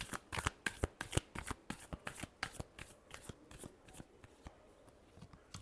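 Tarot cards are shuffled by hand in a rapid series of crisp, riffling slaps and flicks, close and fairly quiet, continuing steadily throughout.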